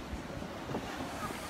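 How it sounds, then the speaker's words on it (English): Steady wind buffets the microphone at a Bahamas resort pier, with a faint wash of ocean waves underneath, continuous and fairly quiet with no clear talk. "Loving the ocean breeze here."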